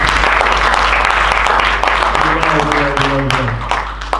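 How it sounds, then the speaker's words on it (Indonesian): Loud, dense applause from an audience fills the whole stretch, steady clapping that thins slightly toward the end, with a voice speaking over it. "boleh dong kita tepuk tangan sekali lagi teman-teman."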